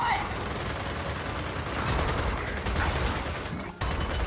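Gunfire in Gears of War 4 on insane co-op campaign, a dense continuous stream of rapid automatic shots with heavy recoil, loud and close, ending in a brief break before firing resumes.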